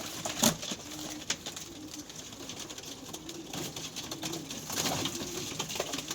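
Tumbler pigeons coo softly in low, rumbling bursts, with a sharp clap or flutter near the start and some background rustling.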